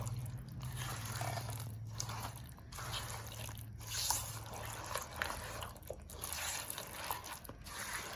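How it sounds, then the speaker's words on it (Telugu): Fish pickle being mixed by hand, with wet squelching, sticky smacking and light crunching in irregular bursts, close and quiet under a low steady hum, no voices. "మళ్ళీ మంచిగా నీట్గా కలుపుకుందాం. చేతితో కలుపుతాను నేను."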